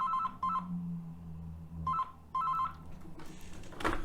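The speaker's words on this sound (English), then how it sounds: "Sorry about that, that was my phone." A mobile phone rings in a quiet room, repeated electronic tone bursts in short pairs with gaps between them, fairly faint and alone, ending in a brief clatter as it is handled.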